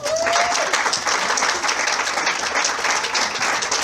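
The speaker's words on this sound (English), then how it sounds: "So if you can give him a round of applause." An audience gives a round of applause for a speaker introduced as a professor, a full, steady roar of many hands clapping at once that holds at a constant level throughout.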